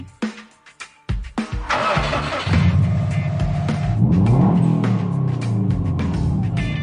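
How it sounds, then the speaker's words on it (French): A 350 hp Japanese sports car engine cranks over with a few stuttering turns, catches, and settles into a loud, steady rumbling idle with revving swells, heard close and alone. "Une japonaise facilement identifiable par le bruit de son moteur."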